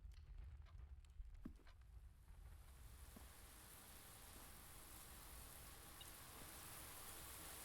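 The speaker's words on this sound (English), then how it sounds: "It's raining?" Rain falls in the video game Blue Prince, a soft, steady hiss that swells in after a couple of seconds and then holds evenly, faint and without voices.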